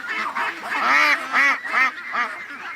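Ducks in a pen give a run of loud, close, nasal quacks in a rapid series of about half a dozen calls, with no talking.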